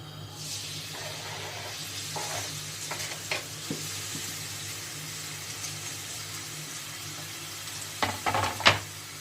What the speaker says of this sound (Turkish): 1 çay bardağı sıvı yağımızı tenceremize alıyoruz. Daha sonra soğanlarımızı ekliyoruz.